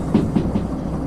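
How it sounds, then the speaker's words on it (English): A train in the Derail Valley simulator game rolls along the track with a steady low rumble and a few soft rhythmic wheel thumps, heard alone. "I just let the train go and keep an eye on the speedometer."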